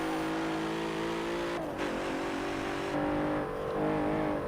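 A Dodge muscle car engine in Forza Motorsport 7 holds a steady, loud drone, then revs and shifts twice, its pitch dipping and climbing again with a brief tire squeal.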